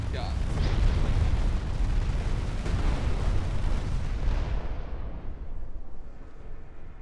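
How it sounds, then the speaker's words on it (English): Naval shells fire and explode without pause in Ultimate Admiral Dreadnoughts, a dense, loud rumbling barrage of booms that holds for several seconds before thinning out and fading. "there's a lot of shells. It makes a really annoying sound, but also really satisfying for me"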